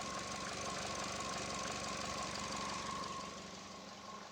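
A 2014 Chevrolet Sonic 1.8 engine with a lean-running fault idles steadily up close, a continuous mid-pitched hum with a faint whine, easing slightly quieter toward the end.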